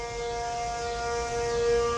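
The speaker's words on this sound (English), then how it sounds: "And there go the tornado sirens" Tornado sirens wail in a steady, sustained tone, loud and unbroken across the whole stretch, with no voices present.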